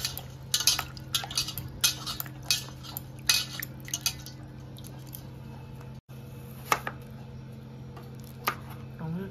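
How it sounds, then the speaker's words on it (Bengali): A knife slicing a large hybrid tomato in a home kitchen while making chicken soup: scattered light taps and clinks of blade on board, close and quiet over a steady low hum. "টমেটোটা কেটে নিচ্ছি আমি।"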